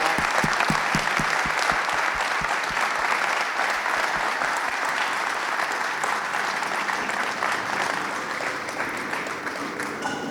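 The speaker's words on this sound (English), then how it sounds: "let's give this extraordinary panel another round of applause" An audience applauds a panel at a bank's servant-leadership event, sustained, full-room clapping that begins with a few distinct claps and then settles into a loud, even roar for about ten seconds.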